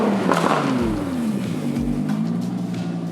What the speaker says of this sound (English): push this Lamborghini Huracan through a stage 2 tune and a fully custom exhaust system that is exited through a center exit